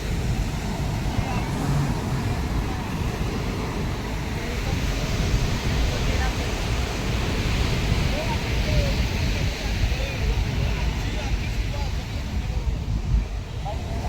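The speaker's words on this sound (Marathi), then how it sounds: "पाण्याची लाटा बघा कशी आवाज येतात" Ocean waves break and wash along Baga Beach in Goa, making a continuous loud roar mixed with wind buffeting the microphone. Faint voices sit in the background.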